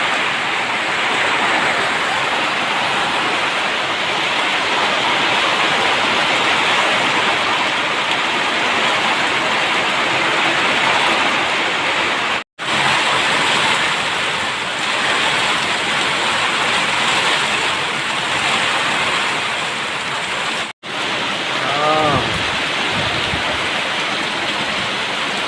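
Heavy typhoon rain from Emong and Dante pours down in a dense, unbroken roar with no let-up, loud and close, with no voices over it.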